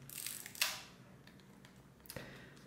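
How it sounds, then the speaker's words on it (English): A LOMO LC-A film camera's mechanism whirs and clicks, two sharp mechanical snaps about a second and a half apart with a brief buzzing wind between, close and fairly quiet. "The camera is not really quiet"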